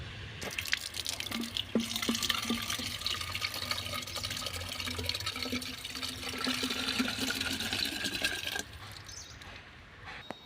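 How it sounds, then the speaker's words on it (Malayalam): About a litre of water splashes and trickles steadily into a container for several seconds, with dripping sounds, then the flow softens near the end, while making homemade fish amino acid fertilizer. "ഇനി നമുക്കിതിലേക്ക് ഒരു ലിറ്റർ വെള്ളം ഒഴിക്കണം"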